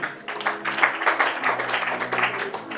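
A church congregation at a French-language Bible teaching bursts into dense, sustained applause, many hands clapping together at close range for a few seconds with a faint murmur of voices underneath.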